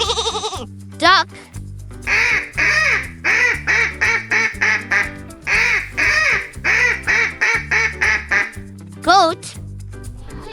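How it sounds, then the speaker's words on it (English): A duck quacks in quick, rapid bursts, about a dozen short loud calls grouped in two runs, close up over a light background melody, with a brief squeaky call at either end. "Duck."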